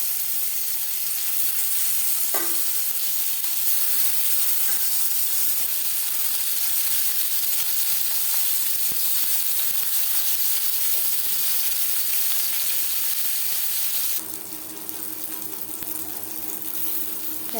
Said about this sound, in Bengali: ভাজা হয়ে গেলে অপর সাইডটা উল্টে দেবো।